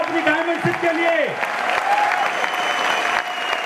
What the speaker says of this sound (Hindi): तालियां अपने लिए बजाओ, अपनी डायमंडशिप के लिए।